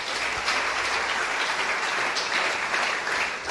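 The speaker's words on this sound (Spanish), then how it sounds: "¿Cuántos aplauden el nombre del Eterno?" A church congregation claps together in a continuous burst of applause, dense and fairly loud, filling the room for a few seconds.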